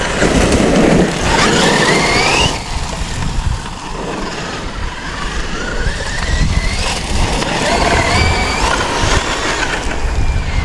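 Traxxas UDR RC truck run at full throttle, its motor giving a continuous loud whining drone with rising pitch sweeps and rough surface noise throughout, no talking.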